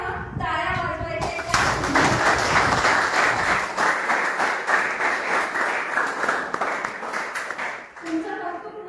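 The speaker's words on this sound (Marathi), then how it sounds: "सगळ्यात पहिला अगदी मोठ्यानं टाळ्या वाजवायच्या" An audience, including a group of about 50 to 70 children, breaks into loud sustained applause, dense clapping that swells and holds for several seconds, with a voice speaking just before and as it fades.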